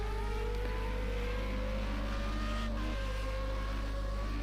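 Race cars drone steadily through a racing broadcast, their engines rising in long rolling pitch sweeps as they run past, loud and continuous with a constant low hum underneath.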